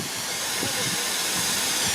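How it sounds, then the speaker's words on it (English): Steam locomotive 45996 Bahamas hissing at Gloucester station, a broad continuous steam hiss that stays loud and steady throughout. "There's a train coming in here, platform 1 to Cheltenham Spa"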